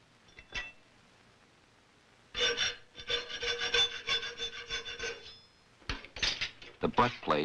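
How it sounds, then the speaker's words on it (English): A file rasps along the fitting edges of a brass butt plate on a colonial-style rifle, in a string of quick, close strokes. A few isolated scrapes come first, then a long steady run after a pause and a short final burst. "The butt plate is filed only on the fitting edges now."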